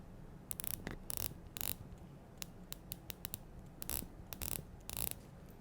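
Quick bursts of sharp mechanical clicks ratchet in short runs with pauses between, close and crisp, as the bezel of a Tudor Pelagos FXD dive watch is turned notch by notch.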